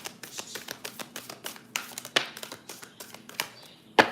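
A tarot card deck is shuffled in a quick run of light, dry clicks and taps that fall at an irregular rhythm. Close and moderately loud, it ends in a sharper snap of the cards.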